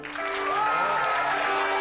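A studio audience applauds together in a dense, continuous wash of clapping that swells and holds, with a tonal electronic sound running over it.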